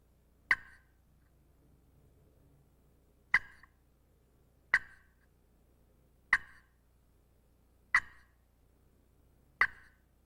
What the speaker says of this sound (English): The cluck is probably the next sound that you want to make